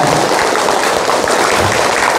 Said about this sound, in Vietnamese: Mọi người có thể dành cho đoàn từ thiện cô Út một tràng pháo tay ạ